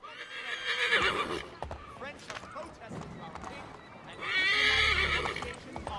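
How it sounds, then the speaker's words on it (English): In Assassin's Creed III, a horse whinnies loudly twice, near and sharp, while hooves clatter in a galloping rhythm beneath, and people talk over the sounds. "Vai, cavalo, vai."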